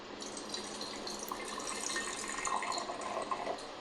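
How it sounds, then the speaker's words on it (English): About 100 milliliters of water poured into a can, a steady close trickling splash that swells slightly toward the end, with no talking. "pour about 100 milliliters of water into the can"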